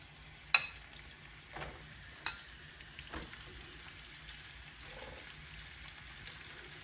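Lamb meat frying in a pan for adobo, a quiet steady sizzle with a few sharp clinks and stirring knocks from utensils, and no talking.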